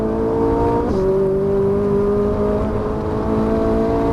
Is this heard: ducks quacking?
no